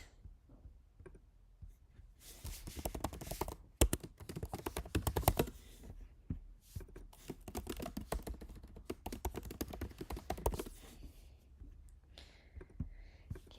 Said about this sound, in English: Can you guys decipher my password based on the sound? Sound of the keyboard.